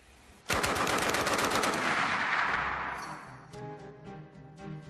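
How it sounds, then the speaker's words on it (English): A Browning Automatic Rifle fires a loud, sustained burst of booming automatic gunfire that starts abruptly. The shots then fade into a ringing tail, and a few fainter, scattered reports follow. "with something like this, it has a booming report, and you're throwing a lot of lead out"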